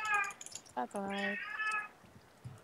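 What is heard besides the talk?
cat meowing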